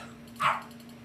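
A single short, faint puppy bark or yip sounds briefly over a low steady background hum, with no talking.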